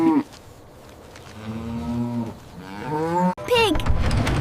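A cow moos twice in long, drawn-out lowing calls with a brief break between them, fairly close and loud.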